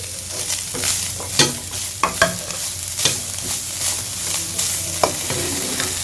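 Chicken stir-fried with crushed green chillies and capsicum in a pan: a steady close sizzle with repeated sharp scrapes and clatters of the spoon stirring, no talking.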